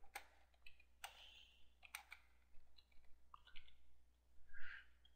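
Text typed on a computer keyboard, with sparse, faint key clicks coming in small irregular clusters against a quiet background and no talking.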